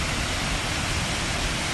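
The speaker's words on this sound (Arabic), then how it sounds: "من أجمل شلالات تبوك." A waterfall in the Tabuk desert runs after storms and flash floods, giving a loud, dense, steady roar of rushing water close by with no voices.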